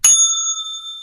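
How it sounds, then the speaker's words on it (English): Bright bell struck once during a live trading stream, ringing with a sharp attack and a clear, sustained metallic tone that lingers alone. "You know that bell."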